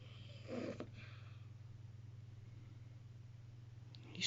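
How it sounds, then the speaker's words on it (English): A small pet snores softly while asleep, a faint, low breathy rumble under steady background hum, with one slightly louder snort near the start. "I caught you snoring, buddy."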